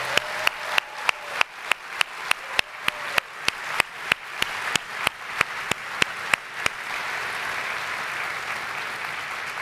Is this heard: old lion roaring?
no